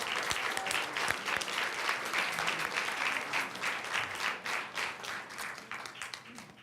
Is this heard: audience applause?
yes